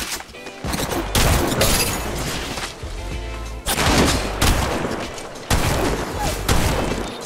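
Automatic weapon fire in Apex Legends Mobile on iOS, repeated loud bursts of rapid shots separated by short gaps, close and dense, with no voices over them.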